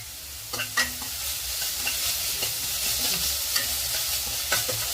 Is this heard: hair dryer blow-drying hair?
no